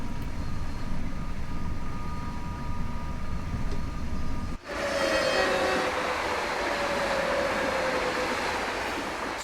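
An NS ICMm Koploper train runs in the video game Train Sim World 6 on the Zwolle–Groningen line, giving a steady rumble of wheels and motor. A sharp shift midway brings a brighter, louder rushing roar, with no talking.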